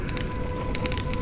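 Fire burning in the Honkai: Star Rail video game, a steady roar with scattered crackles and pops, close and moderately loud, with no talk.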